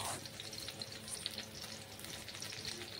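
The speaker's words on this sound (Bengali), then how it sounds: "তারপর ওই কড়াইতে তেল দিয়ে আলুগুলো ফ্রাই করে নিচ্ছি" Potatoes and cauliflower fry in hot oil in a wok, giving a steady, close sizzle and crackle that runs unbroken throughout, with no talking.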